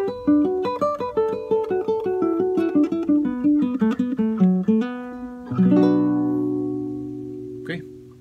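A guitar picks out the quena introduction phrase of a Peruvian waltz, a quick run of plucked single notes settling into a ringing, sustained chord, played alone and close.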